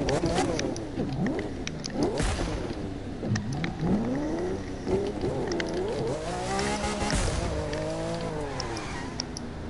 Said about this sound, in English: The car screams.